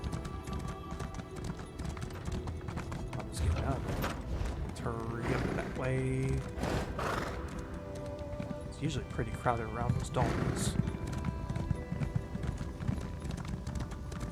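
Horse galloping in Elder Scrolls Online, with steady quick hoofbeats running throughout, a couple of whinnies, and someone talking over the top.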